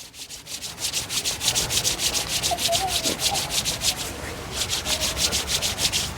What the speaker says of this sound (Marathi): चला हाताला हात घासा